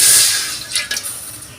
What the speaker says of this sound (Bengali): তো কড়াইটাকে আগে একটু গরম পানিতে ধুয়ে ফেলে দিচ্ছি।